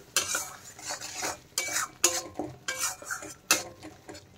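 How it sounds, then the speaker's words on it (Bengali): Spice masala with salt and coriander powder being stir-fried for a katla fish kalia, a spoon scraping and knocking against the pan in repeated bursts over a faint sizzle, close and clear. "এখন এই সব মশলাগুলো ভালোভাবে কষিয়ে নেব আমি।"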